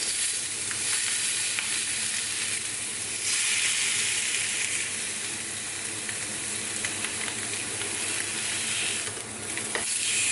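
Pork chops searing in a hot pan give off a loud, continuous sizzle and hiss with brief surges of stronger spitting, close up and with no voices.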